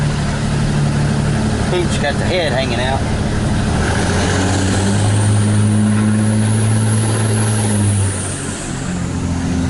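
Steady low drone of a 24-valve Cummins diesel truck's exhaust while driving with the windows down, a continuous rumble throughout, with someone speaking briefly over it near the start.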